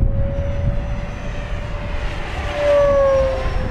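An FMS Corsair 1700mm V3 RC warbird on 8S power flies at full throttle into the wind, its electric motor whining steadily and loud, the pitch shifting upward as it passes near.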